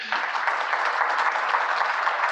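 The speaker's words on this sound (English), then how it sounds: "So how about a round of applause?" An audience at a lecture-series talk gives a steady round of applause for the speaker, many hands clapping evenly at moderate volume with no voices over it.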